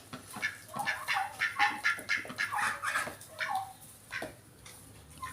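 Several turkey hens of a laying flock calling together, a busy overlapping chorus of shrill honking yelps and clucks, fairly close and continuous with no talking.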